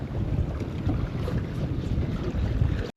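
Strong wind buffets a fishing boat on the water, a dense, gusty rush and roar close to the microphone that ends abruptly.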